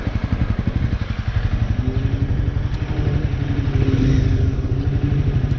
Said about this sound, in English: I hear another motorcycle somewhere